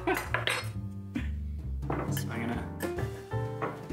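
Cutlery clinks and scrapes against a plate as gluten-free pizza is cut with a knife and fork, a quick cluster of close metallic taps and thunks mixed with people talking.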